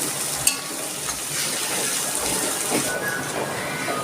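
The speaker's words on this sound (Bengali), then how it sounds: "পেঁয়াজের মধ্যে সামান্য নুন দিয়ে লাল লাল করে ভেজে নিচ্ছি পেঁয়াজটাকে" Sliced onions with a little salt frying in a pan, a steady close hiss of sizzling oil with an occasional light knock from stirring, with no talking.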